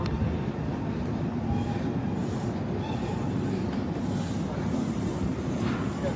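A London Underground model railway train runs steadily past, its wheels rumbling and squealing faintly along the track at low volume, with no talk.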